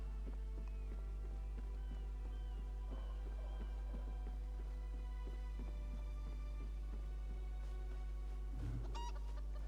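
A chicken in the video game Elder Scrolls Online clucks repeatedly over a steady hum and game background sounds, with a sharper squawk near the end; no one talks.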